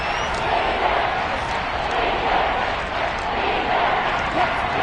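Steady roar of a packed Arrowhead Stadium crowd during a Kansas City football game against the Broncos, a continuous dense wash of voices holding at an even level throughout with no clear peaks.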